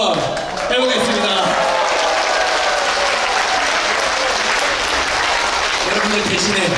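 An outdoor crowd at a Seoul performance space claps loudly and steadily after a yanggeum (hammered dulcimer) performance, with faint voices and cheers mixed into the sustained applause.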